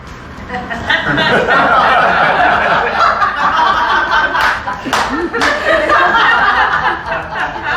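A comedy club audience at a live show in Orlando, Florida claps and laughs loudly in a dense, sustained wash of applause that swells after a second and carries on throughout, with scattered chuckles and voices mixed in.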